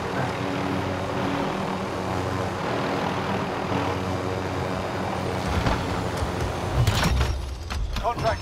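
A helicopter in the video game Call of Duty: Modern Warfare drones steadily with engine and rotor noise throughout, loud and continuous, with sharper bursts of gunfire or impacts near the end and voices talking over it.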